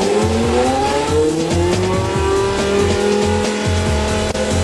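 Formula 1 race car with a 3-litre V10 engine, a loud, high-pitched screaming engine note with rising gear-change sweeps and rhythmic pulsing, close by and continuous with no talk.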